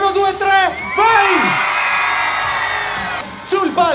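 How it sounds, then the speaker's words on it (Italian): A large outdoor crowd at a summer radio show in Lido di Camaiore screams and whoops together on cue, a loud sustained roar with an announcer's voice shouting at the start and end. "Proviamo con il primo urlo."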